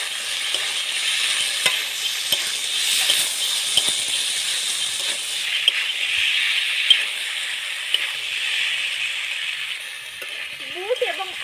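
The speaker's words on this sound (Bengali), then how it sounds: "এখন আবারও ভালোভাবে সব উপকরণগুলি নাড়াচাড়া করে নেব।" Ghugni ingredients with turmeric stirred in a hot pan: a steady close sizzle of frying under repeated scraping and clinking of a spoon against the metal, continuous throughout.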